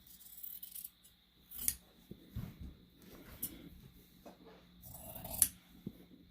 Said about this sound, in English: I'm going to take some very sharp shears